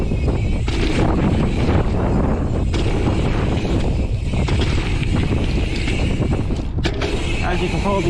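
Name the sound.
strong wind blowing on microphone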